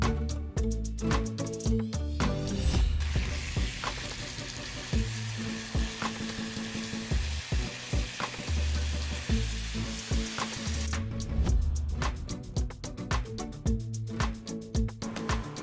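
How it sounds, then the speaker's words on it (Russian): Loud, continuous sizzling of beef searing over maximum heat in a hot pan for goulash, with clattering stirs and scrapes throughout and no voices. "Обжариваем говядину на максимальном огне, чтобы придать ей аппетитную золотистую корочку."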